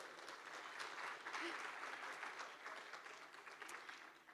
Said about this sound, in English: So a huge applause for Noble, please.